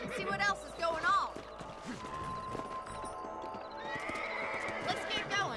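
Horse in the Red Dead Redemption video game neighing loudly with whinnies near the start, then galloping hooves clip-clopping steadily, with music and game sounds underneath.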